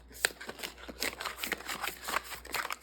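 A large combined pile of tarot cards being shuffled by hand, a rapid series of soft riffling and slapping bursts close by, with no voices.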